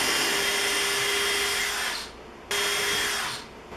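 A power drill whirs steadily as it drives a screw through into 2x4 wood during an air hose reel install, with a loud continuous motor whine that briefly stops and restarts before tapering off.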